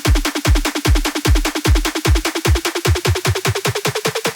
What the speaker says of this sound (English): Drums all together towards the end sound like this.